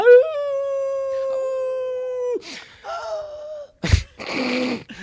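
A person's voice imitates a wolf pup trying to howl, with one long wavering howl followed by shorter broken yelps, a sharp gasp and a groaning tail, loud and close.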